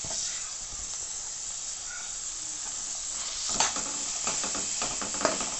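Onion, carrot and capsicum pieces sizzle in a hot pan for a street-style masala Maggi, a steady crackling fry with stirring scrapes that grow louder toward the end.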